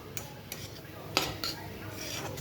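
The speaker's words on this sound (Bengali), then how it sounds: "ভালো করে ভাজতে হবে একদম, যতক্ষণ অবধি ভাজা না হয় ততক্ষণ অবধি এভাবে নাড়তে হবে" Coconut for a sweet dish is stirred in a pan over low heat, with a few quiet scrapes and metallic clinks of a spoon against the pan over a faint background.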